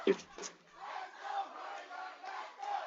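Fans at a men's college soccer championship, with rival PC and Highline supporters, chant and cheer in loud rising and falling swells that sound band-limited and somewhat distant.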